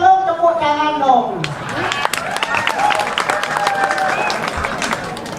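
After a brief spoken line, a crowd at a Balinese comedy show breaks into applause, a loud, sustained patter of many hands with sharp individual claps, continuing to the end.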